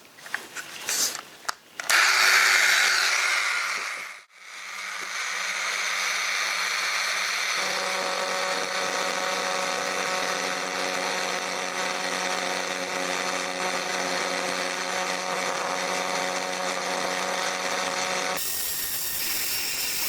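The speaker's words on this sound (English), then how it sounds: "This is a Proxxon, just a handheld machine. And you can see it's one of these rounded" Proxxon handheld rotary tool fitted with a rounded engraving bit, working on 1/6 scale Armortek Panzer IV model wheels: a brief burst of grinding, a pause, then a steady high-pitched whir that holds and shifts slightly in tone.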